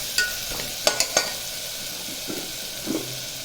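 Ginger garlic paste and onions sautéing in a pan for millet pulao, a steady close sizzle with a few sharp scrapes and taps of a stirring spoon against the pan.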